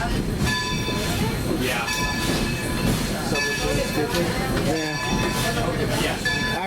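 Former Monongahela Alco diesel locomotive in a rail yard, its engine rumbling loudly and steadily throughout with tonal whine and clanking, a brief voice heard over it.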